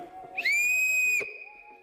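An artist-made traditional whistle is blown once, giving a loud, clear, steady high tone of about a second that starts with a quick rising chirp and stops abruptly, heard up close and alone.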